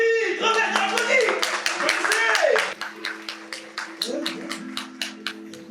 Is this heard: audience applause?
yes